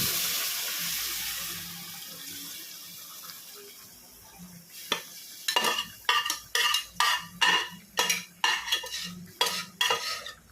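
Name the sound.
cooked mutton poured into pan and stirred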